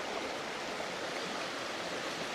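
A high, fast river rushing past rocky bluffs, a steady broadband roar of flowing water close by that stays even and continuous with no talk over it.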